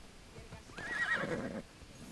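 A horse in the video game Assassin's Creed Odyssey gives a single clear whinny lasting under a second, rising then falling in a shaky neigh, heard fairly close over quiet background noise.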